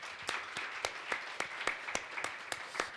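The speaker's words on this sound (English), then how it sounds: "you can give her a round of applause" Audience applause at a SheFi Summit event in Denver for the event planner, a steady patter of clapping with regular louder claps, moderately near and continuous throughout.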